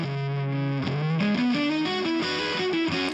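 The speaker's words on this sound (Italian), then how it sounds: "Così è un suono di chitarra elettrica pulito." Electric guitar recorded through a Plugin Alliance amp plugin on its second channel, playing a short melodic run of sustained, bright notes alone for about three seconds.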